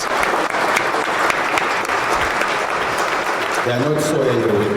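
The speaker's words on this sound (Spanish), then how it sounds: "Denles un aplauso, por favor" Audience applause for the panelists at an academic talk, a dense steady wash of many hands clapping throughout, with a voice starting to speak over it near the end.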